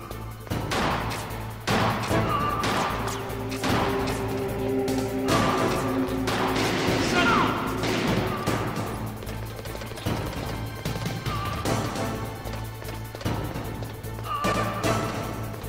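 Gunfire in the video game Metal Gear Solid, repeated sharp shots and crashing impacts at irregular intervals over game music and effects.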